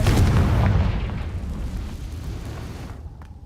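A Confringo fire spell explodes in the Hogwarts Legacy video game, a loud booming blast with a rumbling tail that fades over about three seconds.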